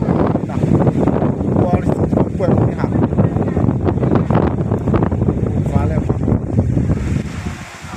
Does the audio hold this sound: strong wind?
yes